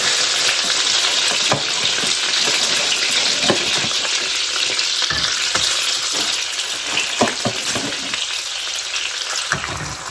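A beef patty fries in butter in a pan, giving a loud, steady sizzle with crackling pops and occasional stirring scrapes throughout, with no voices.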